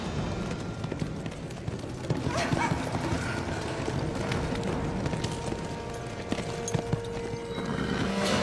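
Horses clip-clopping and whinnying in a historical drama scene, busy hoofbeats and occasional neighs over a dense, noisy outdoor background, with a dog barking faintly.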